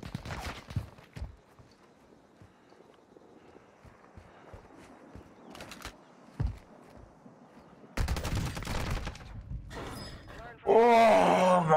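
Bursts of video game gunfire, including an M4 rifle, crack out in scattered shots over footsteps and background game noise, with louder rapid fire near the end as players talk.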